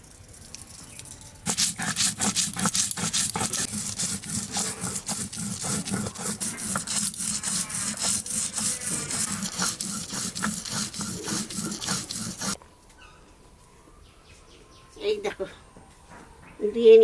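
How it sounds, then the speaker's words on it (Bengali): White and black mustard seeds are ground by hand on a grinding stone, making a rapid rhythmic scraping and rubbing that continues for about eleven seconds, then stops, followed by quiet and a brief voice. "আস্তে আস্তে আমি মশলাটা বেটে নিই সর্ষে সাদা সর্ষে আর কালো সর্ষে"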